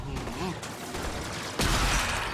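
Gunfire from the video game Warframe in a tier 3 survival mission, a dense burst of rapid shots and impacts with a louder blast near the end, under someone speaking Thai.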